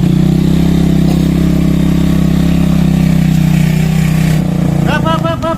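A stalled motorbike's engine idles loud and steady with a continuous low rumble throughout, changing slightly near the end as a voice briefly cuts in.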